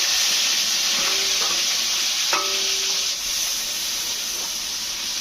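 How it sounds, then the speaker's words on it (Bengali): Chopped onion and garlic frying in a pan, a steady close sizzle and hiss throughout with a few light stirring clinks. "পেঁয়াজ কুচি আর রসুন কুচিটা দিয়ে দেবো"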